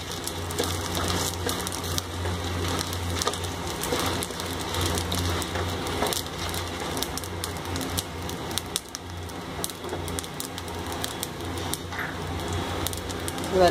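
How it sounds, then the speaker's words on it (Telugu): Cumin seeds and dried red chillies frying in a pan, giving a steady dense crackle and sizzle with scattered sharper pops that runs without a break. "కొంచెం జీలకర్ర ఒక స్పూన్, ఎండుమిర్చి కూడా ఫ్రై అవ్వాలి."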